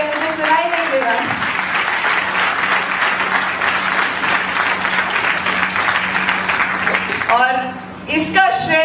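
A hall audience at a speech in Nagpur, Maharashtra breaks into sustained, dense clapping for several seconds, then a voice resumes speaking as the applause fades.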